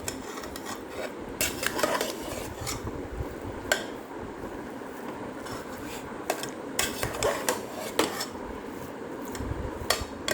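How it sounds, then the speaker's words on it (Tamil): Tomato rice stirred in a pan with a spoon, with soft scraping and intermittent metallic clinks of utensil against the pan, close but fairly quiet, mild sizzle beneath. "நல்லா கிளறி விட்டுங்க"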